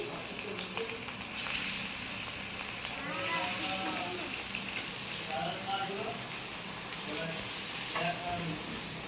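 Fish rubbed with salt frying in oil in a pan while mustard-poppy fish is cooked, a steady loud sizzle and hiss throughout, with faint voices talking over it.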